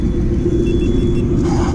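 A Yamaha motorcycle, either an MT15 2.0 or an R15 M World GP 60th Anniversary Edition, roars loud and close as it accelerates hard in a drag race, its heavy engine rumble steady throughout.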